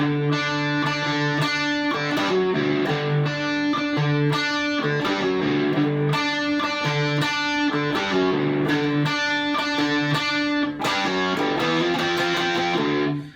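A distorted electric guitar plays a transitional riff in a 6/4 pattern. The tone is thick and sustained, with repeating chord and note figures that are loud and continuous, and no talking.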